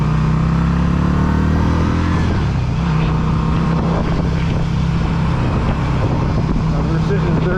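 A 2010 Yamaha V Star 250 motorcycle is ridden through town, its engine note climbing steadily, dropping at a gear change, then droning on under constant wind and road noise.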